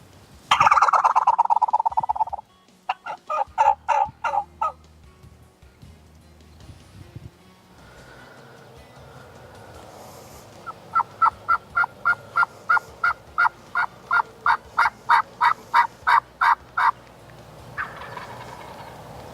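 Wild turkey gobbles in the woods during a spring hunt, a loud close burst at the start followed by shorter gobble bursts and a long rapid series of sharp rhythmic calls, with quieter gaps between.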